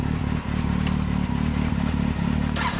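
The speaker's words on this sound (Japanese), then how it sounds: "ごめんエンジン音聞かせてもらえるかな。" A Kawasaki W800 motorcycle fitted with an R's Gear exhaust idles nearby, a steady low thumping engine note with a brief dip and a faint clatter near the end.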